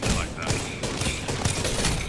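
A quick volley of Apex Legends gunfire, several muffled shots landing in an uneven rhythm at moderate volume, with voices mixed in.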